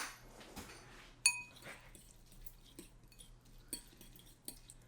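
A utensil stirs Brussels sprouts with bacon and spicy seasoning in a bowl, giving quiet, sporadic clinks and scrapes of metal against dishware. A few sharper taps stand out and no one talks.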